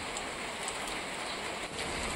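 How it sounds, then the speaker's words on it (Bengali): Steady rain falls on a rooftop in hill country at dawn, an even, soft patter that stays constant with no voices. "বৃষ্টি হচ্ছে কিন্তু আর বৃষ্টিতে ভিজে যাবো না"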